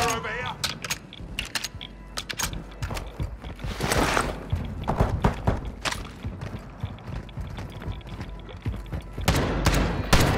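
Bursts of gunfire crackle in a video game shootout, rapid irregular shots and clattering mechanisms mixed with game noise, loud and close, with talk over them.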